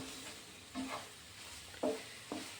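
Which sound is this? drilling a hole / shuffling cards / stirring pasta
stirring pasta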